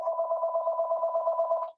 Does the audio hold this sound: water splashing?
no